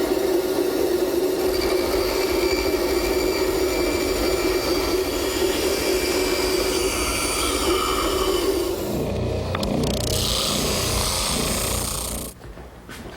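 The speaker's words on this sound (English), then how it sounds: "I'll rough it out at the bandsaw and smooth it up at the spindle sander." Bandsaw cutting wooden library ladder parts, followed by a spindle sander smoothing them: a steady loud machine drone with a hum throughout, changing character partway as the second machine takes over, with no talking.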